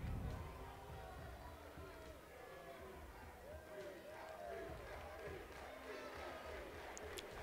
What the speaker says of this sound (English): Peter's getting a lot of cheers from the crowd.